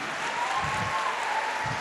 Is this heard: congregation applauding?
yes